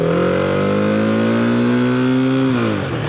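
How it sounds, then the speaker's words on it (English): A 1976 Honda CB550K motorcycle engine gives a smooth, continuous high-revving buzz, close and loud, its pitch rising slightly before easing off near the end, with no talking. "you get more of a buzz, more of a hum than a thump or a rumble"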